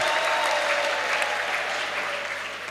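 Church congregation applauding during a Sunday love offering, a steady, full wash of clapping from many hands that holds evenly and tapers slightly at the end, with no voices over it.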